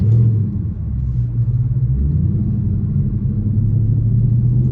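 A Dodge Daytona 392 engine rumbles steadily from inside the car while driving fast, a deep continuous drone with low road noise and no voices.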